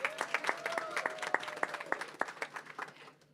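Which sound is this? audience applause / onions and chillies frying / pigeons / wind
audience applause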